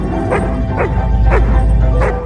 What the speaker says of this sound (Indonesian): anjingnya mereka yang terus menggonggong